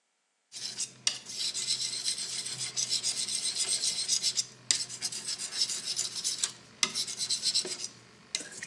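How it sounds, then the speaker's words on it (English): Paint is worked and scraped across a palette while being mixed for flooding, giving repeated gritty rasping strokes in bursts separated by short pauses, close and fairly loud with no talking. "there is the paint that we're now mixing for flooding with the lump to one side at the top of the palette"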